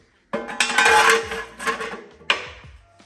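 The ash pan of an OSVALD cast iron stove is emptied using its handle: sharp metallic scraping and clanking, a long rattling scrape followed by a second clatter, close and alone.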